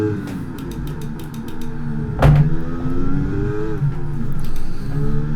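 Racing car engine in F1 23 during a Canadian Grand Prix, a steady loud engine drone with shifting pitch as the car slides for grip, a brief sharp burst midway, no talking.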